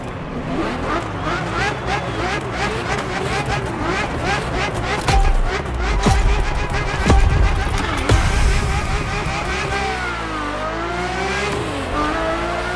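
Ferrari F50 engine in The Crew Motorfest, a steady loud drone that climbs and falls with gear changes, with sharper surges near the middle and a rising then falling sweep toward the end, under a voice talking.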